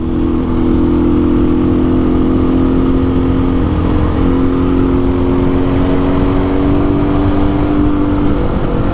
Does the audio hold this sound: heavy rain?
no